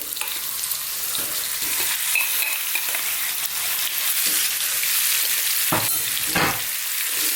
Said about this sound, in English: let's cook this for about 5 minutes, stirring pretty much all the time